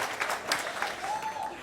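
A comedy special crowd claps in a brief scattered patter, moderate and roomy, fading as a single voice rises near the end.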